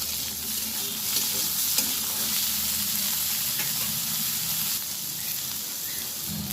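Raw banana, potato and papaya frying in hot oil in a pan, with a loud, dense, continuous sizzle and hiss close by throughout, no talking.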